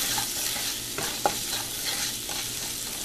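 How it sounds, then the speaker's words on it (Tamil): Ginger garlic paste frying in a pan gives a steady close sizzle, broken by a few scraping stirs of a spoon, with one sharper knock against the pan midway; no voices. "இப்போ இந்த இஞ்சி பூண்டு பேஸ்ட் நல்லா வதங்கிடுச்சு."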